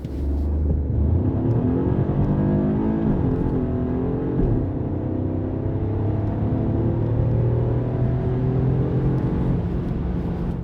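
A 2025 BMW 220 Gran Coupe engine pulls hard toward 100 km/h, a loud, close rumble whose tone rises through the gears with short dips at each shift, all in steady in-cabin road noise.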